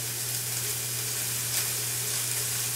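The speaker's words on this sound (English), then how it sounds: "I'm going to take our prosciutto and I'm just going to render this down, get this prosciutto crispy, just like you would bacon" Prosciutto crisps in a hot oiled pan, a steady dense sizzle and hiss holding evenly throughout, close and fairly loud with a low hum beneath and no talk.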